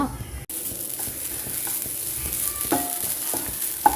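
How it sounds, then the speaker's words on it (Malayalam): Grated coconut with curry leaves is stirred in a hot pan, a soft steady sizzle with faint scraping strokes of the spoon, close and continuous, no talking. "ബ്രൗൺ കളർ ആകണ വരെ ഒന്ന് ഇളക്കി കൊടുക്കാം തേങ്ങ"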